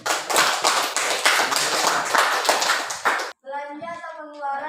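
A classroom of students claps hands together for about three seconds, a dense run of quick taps, before a voice begins speaking.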